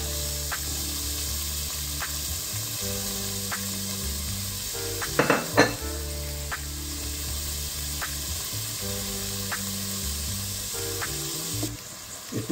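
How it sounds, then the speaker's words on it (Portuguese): Chopped onion and garlic sauté in olive oil in a pan, giving a steady, close sizzle with a brief clatter of a utensil against the pan midway. "eu tô puxando aqui a cebola e o alho"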